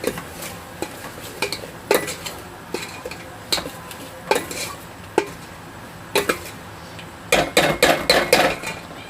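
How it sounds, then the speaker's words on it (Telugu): Chicken cooking with chilli powder is stirred in a pan, giving irregular sharp metal scrapes and clacks of the spoon against the pan over a low sizzle, with a quick flurry of strokes toward the end. "కారం వేసేసుకొని ఒకసారి అయితే బాగా మిక్స్ చేసేసుకుంటున్నాను."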